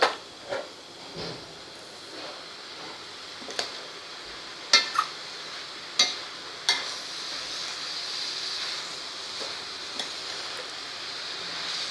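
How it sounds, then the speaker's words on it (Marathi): Carrots stirred in ghee in a pan, with a soft steady sizzle under a series of sharp scraping and tapping strokes of a spoon against the pan, spaced irregularly and close. "हे छान असं मिक्स करून घ्यायचं आहे तुपात"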